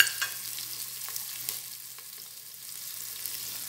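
Onion sautéing in a pot for a beef and vegetable soup, a soft, steady hiss of frying with a few light stirring taps, quiet and without talk.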